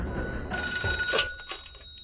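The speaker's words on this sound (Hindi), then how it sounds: "2018 में बेल को एक फ़ोन आया।" A telephone bell rings loudly and alone, a short burst of clear, steady ringing tones that cut off after about a second and a half.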